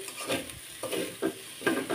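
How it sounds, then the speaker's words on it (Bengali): Mashed fish tail bharta being stirred and fried in a pan, with about five scraping strokes of a spoon over a soft sizzle. "এখন কন্টিনিউ নেড়ে চেড়ে মাছের ভর্তাটা কিন্তু ভাজি করে নিতে হবে"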